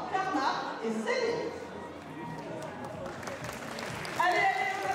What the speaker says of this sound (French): je vous demande d'applaudir très fort Karma et Céline